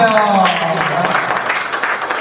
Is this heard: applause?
yes